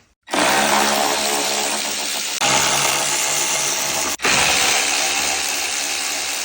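Power tool whirring steadily while a part is unscrewed to reach the headlight bulb on a Passat B6, loud and close with two brief stops before it resumes.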